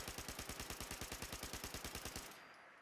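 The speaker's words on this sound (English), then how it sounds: "That's a recoil control with the submachine gun" A 10mm submachine gun fires in a video game in one rapid, steady automatic burst of about twenty evenly spaced shots, loud and close, then cuts off abruptly.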